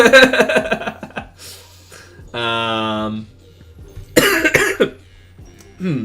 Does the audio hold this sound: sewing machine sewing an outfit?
no